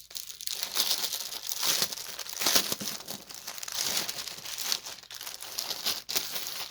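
A cross stitch kit is pulled out of a plastic bag, giving a steady, close crinkling and rustling of plastic that runs on for several seconds with brief dips.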